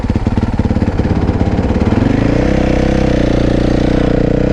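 A supermoto motorcycle engine thumps loudly and close, its rapid pulsing beat rising slightly in pitch and smoothing into a steady, throbbing run.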